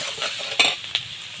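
Bottle gourd with turmeric is stirred in a sizzling pan, soft frying noise broken by two sharp clinks of a utensil against the metal, close up.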